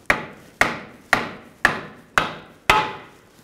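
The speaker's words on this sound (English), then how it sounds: "Now I'm just gonna hold the knuckle and just hammer out the axle from this side." Six evenly spaced, ringing metal hammer blows driving a CV axle out of the steering knuckle of a 2011-2015 Chevy Cruze, close and loud, each strike fading before the next, no talking.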